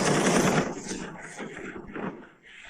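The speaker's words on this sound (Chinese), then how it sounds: "机枪手交叉扫射，一刻也不要停，把枪管打红为止" Rapid machine gun fire in an animated battle with gunners sweeping the enemy in crossfire, loud dense bursts up close that fade in the final moments.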